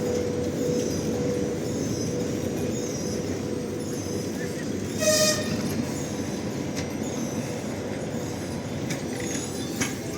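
A passenger train pulls away from Lviv station, with a low steady rumble of moving carriages, a brief horn toot midway and faint wheel squeals, at moderate distance with people talking nearby.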